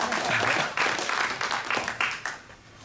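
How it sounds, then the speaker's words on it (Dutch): An audience applauds a speaker introduced at a talk, a dense burst of many hands clapping that rolls on for a few seconds and then starts to fade. "Geef hem een applaus."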